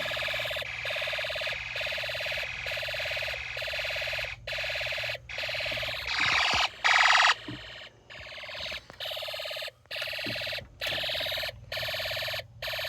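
A Snap Circuits toy burglar alarm circuit sounds a loud, continuous electronic siren tone, steady and close, with brief regular dropouts and a shift in pitch partway through as wires are disconnected and reconnected.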